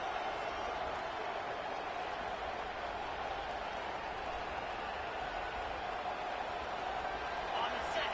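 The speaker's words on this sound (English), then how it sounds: "It is getting loud as this crowd tries to help its defense." A football stadium crowd produces a steady, dense roar that holds at an even level throughout, with a commentator talking over it.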